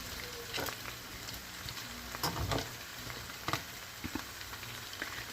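Chicken pieces for Filipino adobo fry in a pan with a constant sizzle, broken by scattered scraping knocks as they are stirred and moved around, close by with no talking.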